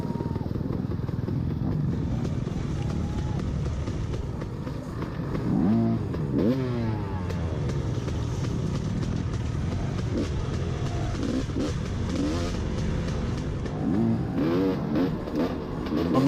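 Onboard an off-road race motorcycle on a cross-country course at Sawmill Hill, the engine buzzes and revs continuously, rising and falling through gear changes, with clattering from rough terrain and occasional sharp revving bursts close to the mic.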